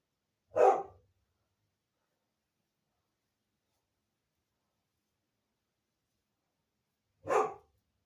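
Two sharp single dog barks, far apart with a long silence between, fairly close and moderately loud.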